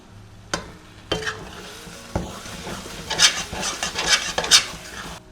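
Onion-tomato masala gravy roasting in a pan, stirred with a utensil: soft sizzling under repeated scraping strokes and a few sharp clinks of the spoon against the pan, close and moderately loud.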